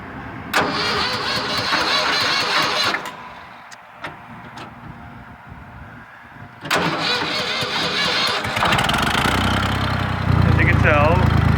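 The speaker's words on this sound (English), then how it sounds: "All right, I want to start the tractor." A 1970 Ford 4400 tractor engine cranks and catches twice, settling into a loud, close diesel idle, with a person talking briefly during the pause.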